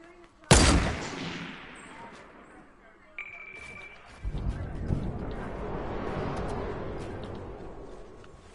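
Video game gunfire: one sharp, loud close shot, then a smaller crack and a sustained rumble of continued firing and action with talk over it.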